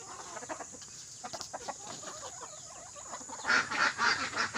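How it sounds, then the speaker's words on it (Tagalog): A flock of ducks quacks and squawks at feeding time, growing louder and busier toward the end, with rustling movement underneath. "doon naman tayo sa ating itik magpapakain"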